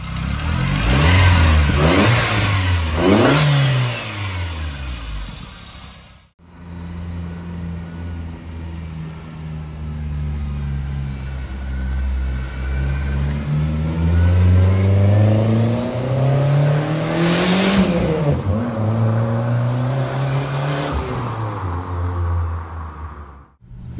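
Volkswagen Santana GLS Turbo engine revving hard while driving, rising and falling through several loud, close pulls, with a brief break near six seconds before climbing again.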